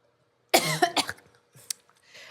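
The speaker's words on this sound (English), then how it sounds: "That wasn't a bad cough." A woman coughs after sipping a drink, one harsh, close burst of several quick coughs followed by a couple of softer throat-clearing sounds and a breath.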